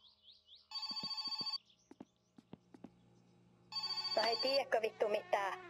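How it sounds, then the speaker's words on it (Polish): A telephone in the video game My Summer Car rings in two bursts of rapid electronic trilling, with clicks and soft footstep-like knocks between them and a tone sliding over the second ring. "zadzwonił telefon"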